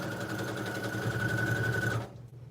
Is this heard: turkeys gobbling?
no